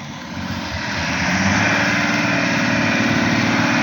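An Ineos Grenadier off-road vehicle drives a new motocross track in the rain, its engine a loud, close, steady drone that swells slightly and then holds.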